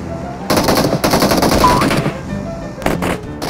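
Gunfire in the mobile shooter Peacekeeper Elite: loud bursts of rapid automatic fire in several runs separated by short pauses, close and dominant, with no talking.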